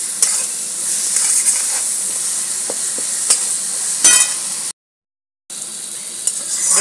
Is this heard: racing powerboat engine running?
no